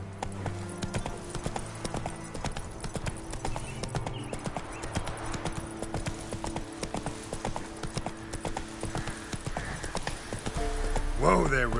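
Roach the horse clip-clops steadily through The Witcher 3, hooves beating a regular rhythm at moderate volume, with a brief whinny-like sound at the end.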